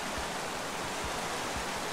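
Steady rushing water from a waterfall in the video game Minecraft Story Mode, a continuous broadband roar with a faint low rumble, heard alone at moderate level.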